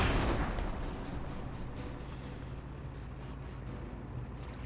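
Rumbling explosions and heavy blasts from a V1 rocket barrage in the Company of Heroes 1 strategy game, with a loud broadband impact at the start decaying into a continuous low roar of distant detonations.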